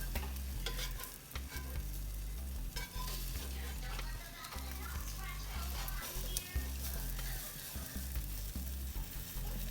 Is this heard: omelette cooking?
yes